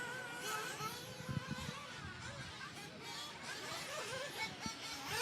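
Race cars pass the start-finish line of a racetrack, their engines a continuous distant roar with faint crowd babble beneath.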